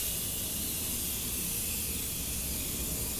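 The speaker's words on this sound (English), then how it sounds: "I'm going to take the Morphe setting spray" A steady, close hiss of Morphe makeup setting spray runs unbroken for a few seconds, even in loudness throughout.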